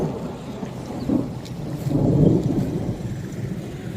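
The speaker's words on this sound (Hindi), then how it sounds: "ये अभी बादल गड़क रहे हैं, गरज रहे हैं।" Thunder rumbles low and distant beneath steady rain near Parashar Lake, swelling into a deeper roll midway before fading back.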